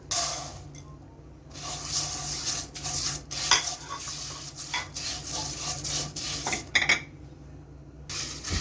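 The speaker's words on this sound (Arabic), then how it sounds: "اهو دلوقتي بقى بنحمر الشعرية" Vermicelli and rice frying in ghee and oil in a pan, giving a steady hiss with repeated scraping and stirring clatter of a utensil against the pot, close and continuous.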